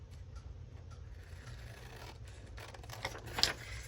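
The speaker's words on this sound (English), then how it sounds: "And maybe cut this right here out." Scissors snip through paper to cut a piece out of a creative journal page, soft close cutting strokes over a quiet room with a sharper snip near the end.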